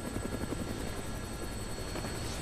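A helicopter in Dead Rising flies close by, its rotor chopping in a fast, steady pulse with a whining engine tone, loud and continuous with no voices.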